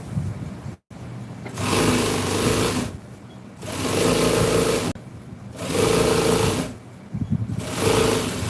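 An upholstery sewing machine sews the boxing onto a seat cover for a 1966 Chevy truck. It runs in several loud, close, whirring bursts of about a second or two each, separated by brief stops.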